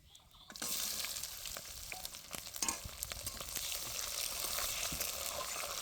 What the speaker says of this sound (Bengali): পেঁয়াজগুলো ভাজা হতে থাকুক